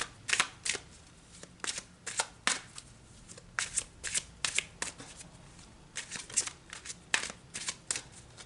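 Tarot cards being shuffled by hand in a steady run of crisp riffling bursts, close and fairly loud, with short pauses between flurries and no talking.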